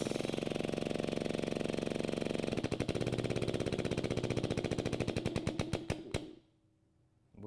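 A Wielander & Schill X-Press rivet machine crushes a rivet with a fast, loud, rattling mechanical hammering that speeds into distinct rapid knocks before cutting off abruptly.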